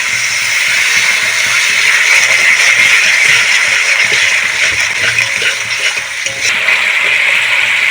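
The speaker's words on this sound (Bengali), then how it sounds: "খুব ভালো করে আমি কষিয়ে নেবো মশলাগুলো অল্প করে জল" Spices sizzling and hissing in a pan with a splash of water while being cooked down for a mustard fish curry, a steady close frying crackle with faint scraping underneath and no talk.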